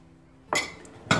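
Two quick metallic clinks of a fork against a bowl, spaced about half a second apart after near silence, as the fork mashes the batbout filling.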